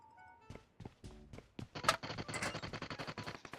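Rapid bursts of automatic gunfire in the battle royale game PUBG Mobile, loud and close, rattling continuously over the second half after a few scattered single shots and thuds.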